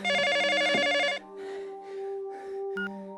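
A telephone rings in a horror film scene, a bright electronic trill that repeats in a fast pulsing pattern, then fades into a softer ringing tone with low background hum and a short beep near the end.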